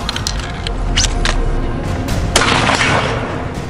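Several sharp gunshot cracks ring out outdoors at a shooting competition amid wind noise, spaced irregularly with one louder blast followed by a rushing tail.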